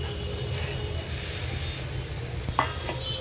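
Steady sizzle of bottle gourd going into a pan with fish and being stirred, a few sharper scrapes and a clink of the utensil against the pan near the end, with no talk.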